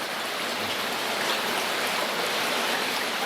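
Water pours steadily out of an old mine tunnel, a constant broadband rushing hiss with no breaks, moderately loud and close, with no voices.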